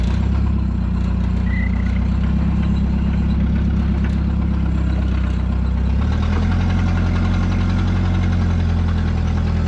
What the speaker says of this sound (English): this thing's got a little bit of an exhaust leak, so it's basically straight pipe